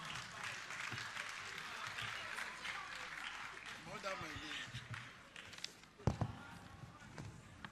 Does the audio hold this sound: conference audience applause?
yes